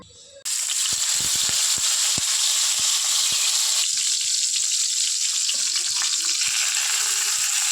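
Koi fish wrapped in pumpkin leaves frying in hot mustard oil in a wok, a loud steady sizzle that starts abruptly and continues throughout with occasional soft taps and clinks.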